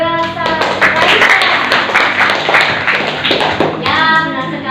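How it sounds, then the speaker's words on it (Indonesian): A classroom of students claps for a classmate, a brief burst of fairly close, irregular hand claps mixed with voices and chatter. "tepuk tangan untuk Mbak Raisya"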